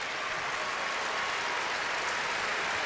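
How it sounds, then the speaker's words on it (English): Crowd applause at a 2003 NCAA college basketball tournament first-round game in Birmingham, a steady wash of clapping and cheering from a distant arena crowd, fairly faint and continuous. "a nice round of applause from the crowd here in Birmingham"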